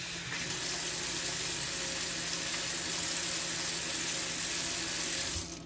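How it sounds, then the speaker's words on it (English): Hands being rinsed under running water while lathered with soap, a steady close splashing hiss from a tap into a sink that stops abruptly at the end. "I just put my hands in more water."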